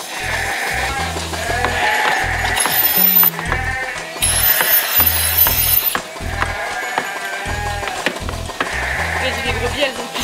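Ewes bleat loudly and repeatedly at the milking parlour of a sheepfold late in their lactation. Close, overlapping calls repeat in strong bursts over a constant background of parlour noise.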